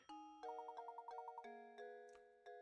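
A chiming bell melody from the Professor Layton and the Curious Village game, a quick run of bright repeated tones followed by a few sustained ringing notes, clear and faint with no talk.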